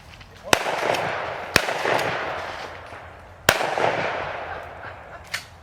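Shotgun blasts during a squirrel hunt in the woods, with three loud, sharp shots spaced a second or two apart and a fainter fourth near the end, each followed by a short rolling echo.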